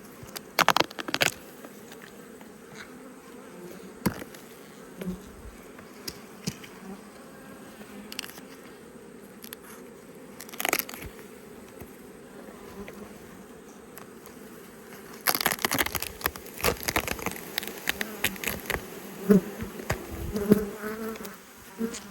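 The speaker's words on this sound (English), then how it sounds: "Lots of bees up the top." A steady hum of many honeybees buzzing close by at an open hive during inspection, with scattered crackles and bumps from handling, growing busier and louder toward the end.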